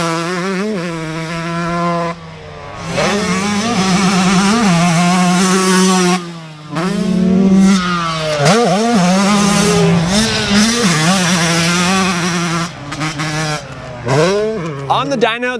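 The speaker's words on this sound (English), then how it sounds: "today we have Connor Styers holding it wide open at Glen Helen" A 2024 Yamaha YZ125 two-stroke motocross bike is held wide open on the Glen Helen track. Its loud, raspy engine wails up and down through the revs and drops off briefly twice as the rider shifts or backs off.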